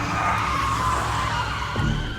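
A car brakes hard and skids to a stop on a wet road. One loud, close tire skid lasts about two seconds, with no voices.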